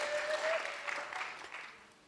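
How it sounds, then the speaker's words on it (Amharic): A church congregation claps together in sustained, fairly dense applause that fades slightly toward the end, with a faint voice murmuring underneath. "እስኪ አጨብጭቡ ለዚህ ጌታ የምትወዱት ሁሉ"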